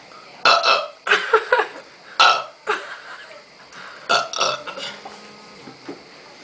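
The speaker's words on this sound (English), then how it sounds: "That we're trying to have a burping contest." Several loud, wet burps in quick succession during a burping contest, each a short rough burst with brief pauses between, close to the microphone.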